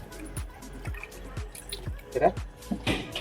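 Water splashing and dripping as goat tripe is rinsed clean by hand in a bowl, with repeated wet slaps and trickles close by, under faint background hum.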